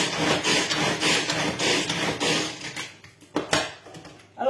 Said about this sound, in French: je vais la hacher au tornado